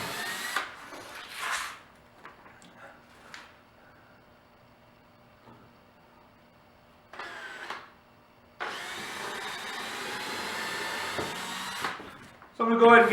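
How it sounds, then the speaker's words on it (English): A power drill pre-drills holes in a tire for a firewood-splitting build, running in several bursts of steady whirring, short at first and then a long sustained run, with a voice talking between bursts. "So start straight, get it started, tilt your drill up,"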